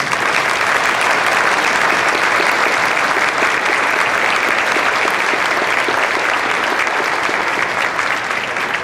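A large outdoor crowd at a Veterans Day opening ceremony gives the Lexington High School Choir a loud, sustained round of applause, a thick even roar of clapping that holds steady throughout without talk.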